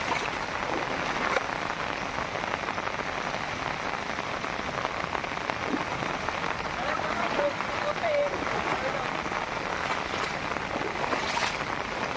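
Steady monsoon rain pours down in a continuous hiss, heavy and close, with a faint voice talking underneath, in the Konkan region.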